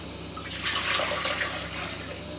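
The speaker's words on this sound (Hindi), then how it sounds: "एक पैन लेंगे और उसमें आपने ऐड करना है जो कि है दूध" Milk poured into a pan, a short splashing liquid stream that swells then eases off, close and fairly clear.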